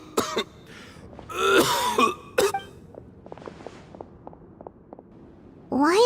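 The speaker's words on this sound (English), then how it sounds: "Why is he coughing so much?" A Genshin Impact character coughs and clears his throat in several harsh, wheezing bursts, then a few faint footsteps follow and another cough starts at the end.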